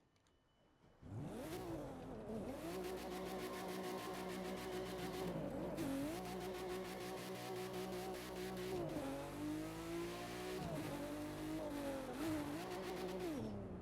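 A Porsche Cayman GT4 in the racing game The Crew 2 starts up and revs hard, its engine note climbing and dropping through several gear changes, loud and continuous with faint tire noise.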